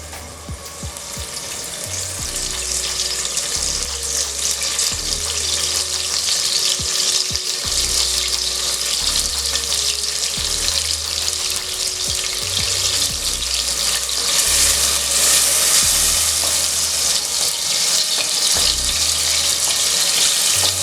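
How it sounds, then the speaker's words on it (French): Shrimp makwala broth ingredients fry in a pan with a loud, continuous sizzle that swells and holds steady, along with water-like crackle and faint low thumps throughout. "Alors, je vais griller maintenant."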